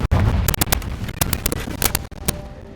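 Bombarda explosion spell cast in the video game Hogwarts Legacy, a dense burst of sharp crackling blasts and thuds in quick succession, loud and close, with no talk.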